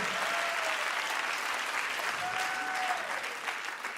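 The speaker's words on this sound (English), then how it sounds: "Come on, let's give Danny another cheer" A crowd at a 2017 fall leaders' conference breaks into sustained applause mixed with whoops and cheers, a full, even roar of clapping that carries throughout.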